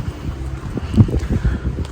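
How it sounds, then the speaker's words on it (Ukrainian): Low, gusty wind rumbles against the microphone outdoors in Uzhhorod, Ukraine, fairly steady with a few stronger buffets. "На вулиці, як завжди, вітряно"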